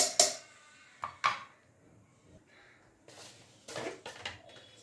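Sharp metallic clanks and scrapes of a spoon stirring green peas biryani rice in a pot, a few loud knocks followed by softer scraping, close and without talk.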